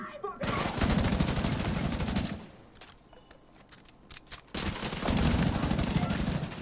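Sustained automatic gunfire in The Division 2, a dense, loud rapid-fire burst of shots lasting about two seconds, a short lull with scattered distant shots, then another long, heavy burst of rapid fire.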